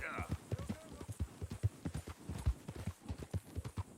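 A horse's hooves clip-clop in a steady, brisk rhythm of close, distinct thuds while riding in Red Dead, a high-quality Missouri Fox Trotter, with a voice talking faintly alongside.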